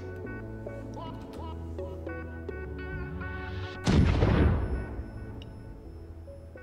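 A single SAS 9 torpedo strikes a Banu Defender ship in a space combat game, a sudden loud broadband impact that erupts over steady musical tones and then decays over a couple of seconds.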